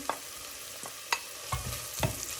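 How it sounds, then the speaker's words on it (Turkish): Leek sizzles and fries in a hot pan, broken by several sharp clicks and scrapes of a utensil stirring. "Biraz da önce pırasa kavrulsun."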